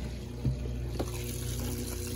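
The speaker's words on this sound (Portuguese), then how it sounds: "Começou então a entrada de água." A 1992 Brastemp Baby 4 kg washing machine (BLK20) fills with water on a high-level complete cycle, a steady rushing flow with a low hum running continuously throughout, no voices.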